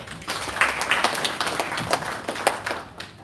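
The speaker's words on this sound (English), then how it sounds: "Please give a round of applause." A live audience at a World Population Day event in Nairobi, Kenya, breaks into applause, a moderate mix of individual claps and overlapping hand-clapping that rises and falls for a few seconds.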